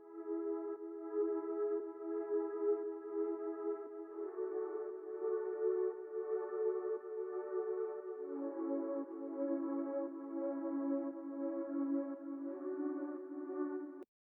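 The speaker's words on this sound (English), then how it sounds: "What we've got down the bottom here is a pad sound." A soft, sustained sidechained synth pad holds long chords that shift every few seconds, gently pumping in volume, quiet and smooth with no voices.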